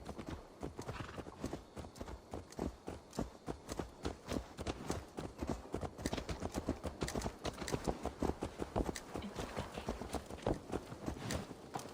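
Horse hooves clip-clop steadily in Assassin's Creed Valhalla, a rapid rhythmic walking-to-trotting beat up close, with a brief neigh and faint voices in the background.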